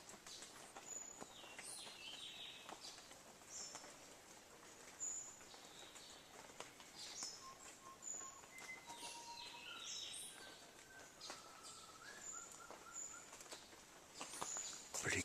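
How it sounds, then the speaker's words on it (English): Birds chirp and call in the jungle along the Ciudad Perdida trail, with repeated high tweets scattered over a quiet, soft ambient background. "You can hear the birds. The sounds of the jungle."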